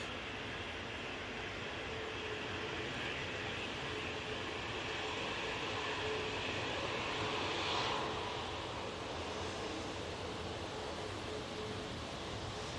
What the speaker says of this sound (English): we've got TAP Portugal Embraer coming down right in front of us